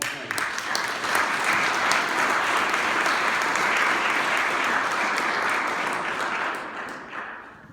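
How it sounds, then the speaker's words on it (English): Sustained applause at a county Black Caucus leaders' meeting for all of the candidates, a room full of clapping that holds steady, then fades out toward the end. "let's give a round of applause to all of the candidates"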